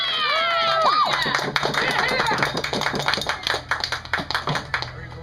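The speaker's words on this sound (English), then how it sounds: "Give him a cheer!" A costumed pirate-council crowd at CTRF Enfield 2014 cheers for Captain Benjamin Hornigold, whoops and shouts rising first, then scattered individual claps growing sharper and more separated as the cheering dies down.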